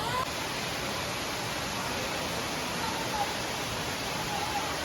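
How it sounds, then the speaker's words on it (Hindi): Wei Sawdong waterfall in Cherrapunji, a steady broadband rush of falling water heard evenly and fairly faint throughout with no clear voices. "उस फॉल का पानी भी इसी फॉल में मिक्स होके फिर यहाँ से आता है।"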